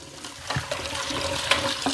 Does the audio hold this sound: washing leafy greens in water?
yes